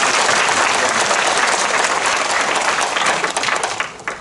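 Audience at a residents' briefing on a public redevelopment plan in Ahyeon-dong, Mapo-gu, Seoul, giving loud sustained applause that fades slightly at the end.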